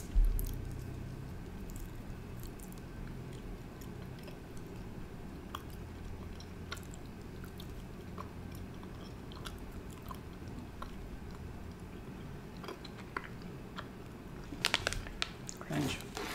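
Soft chewing of sour dough snake candy, close and quiet, with small wet squishes and occasional crunchy clicks over a low background hum.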